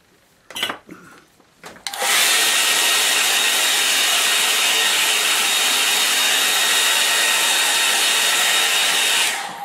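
A hair dryer blows steadily and loudly to dry a pen and wash sketch painted outdoors at Headley Heath, Surrey, switching on after a few brief knocks and running alone to the end.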